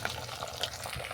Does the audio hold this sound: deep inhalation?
no